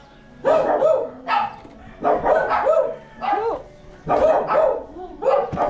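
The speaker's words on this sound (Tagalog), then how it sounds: "Maingay ang aso." A dog barks repeatedly in short bursts, loud and close, with brief pauses between volleys.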